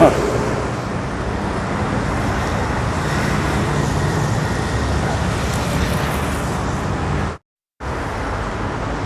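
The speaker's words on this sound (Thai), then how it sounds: "การจราจรถนนพระรามสี่ ตรงแยก สะพานลอยครับลวยน้ำไทย" Steady road traffic rumbles along Rama 4 Road at an intersection near a footbridge in Bangkok, with dense car, bus and engine noise throughout and a brief dropout near the end.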